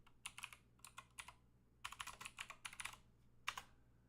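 Typing on a computer keyboard, quiet bursts of crisp key clicks in quick clusters separated by short pauses, close but low in level, with no talking.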